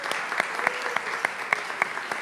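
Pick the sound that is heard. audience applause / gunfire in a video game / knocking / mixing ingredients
audience applause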